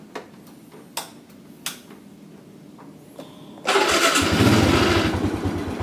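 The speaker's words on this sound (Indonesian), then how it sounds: "Dan sekarang saya pencet electric starternya." A motorcycle with a weak, worn-out dry battery, started with its electric starter: several short clicks and a brief failed crank, then the engine catches and runs loudly at a rough idle.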